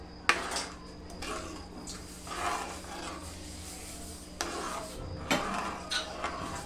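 A spoon stirring moong curry in a pan, with scraping and clinking strokes in several separate bursts against a quiet background, close and moderately soft.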